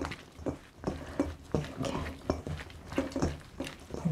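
Seasoning worked into zucchini namul by hand, with soft squishing and patting sounds in an uneven rhythm under a speaking voice.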